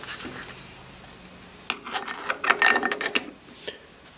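A table saw's blade height is cranked up by hand, with a burst of close, irregular metallic clicking and grinding for about two seconds after a quiet start. The saw is being set up for cutting beehive frame top bars.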